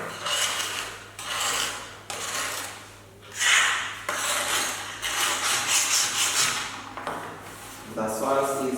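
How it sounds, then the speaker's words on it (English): A metal spatula scrapes and rubs a sticky soil sample across a glass plate, giving repeated rasping strokes in bursts with short pauses, fairly close and steady. "The soil is now getting sticky, so you have to use the spatula again and again to get the total soil sample from the glass plate."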